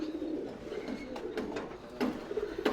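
Soft, steady cooing from tumbler pigeons in a Bangalore loft, where a five-year-old male is kept; the low murmuring runs continuously with a few slightly louder swells, heard fairly close with no talking.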